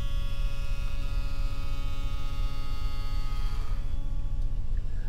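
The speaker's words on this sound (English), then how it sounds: "the router bit is cutting with the grain" A router with a bearing bit cuts an oak arch, giving a steady high electric whine with a sustained buzzing hum throughout, loud and close.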